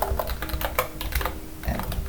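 Quick, uneven key clicks as a command is typed on a computer keyboard, soft and close in a quiet room with brief pauses between bursts.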